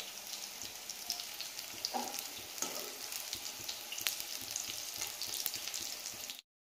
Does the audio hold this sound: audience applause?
no